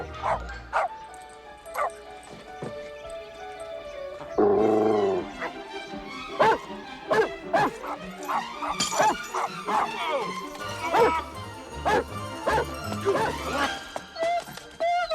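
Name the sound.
small dog barking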